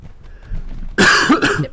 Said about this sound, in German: Entschuldigung fürs Husten.